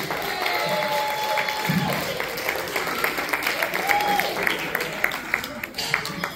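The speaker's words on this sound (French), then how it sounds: "Est-ce qu'on peut applaudir pour eux?" A crowd at a parish volunteers' celebration in Val d'Or applauds the event's sponsors, the Knights of Columbus, with steady, dense clapping that fills the room and is mixed with scattered voices.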